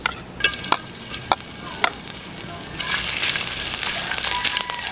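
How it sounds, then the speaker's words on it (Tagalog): Garlic and ginger sauté in a pan for kare-kare made with beef skin, opening with a few sharp spatula clacks before a louder, steady sizzle swells and carries on to the end. "Magigisa lang po tayo dito ng bawang at saka luya."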